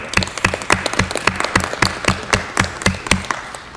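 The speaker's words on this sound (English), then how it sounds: "Let's give them a round of applause." An audience at a city council meeting applauds, a steady round of rhythmic clapping from a modest crowd with no talking over it.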